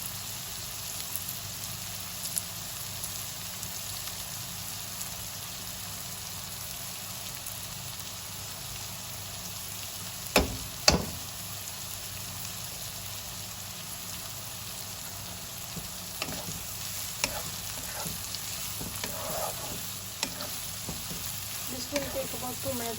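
Onions and a green chili fry steadily in a pan with a little salt, giving a continuous soft sizzle with a few louder pops and stirring clicks scattered through.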